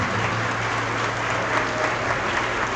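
An audience fills a church teaching session with steady, dense applause, loud and continuous throughout, with no voices on top.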